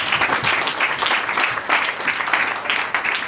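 A church congregation applauds in a steady, dense wash of clapping that fills the room continuously from start to finish, fairly loud and close.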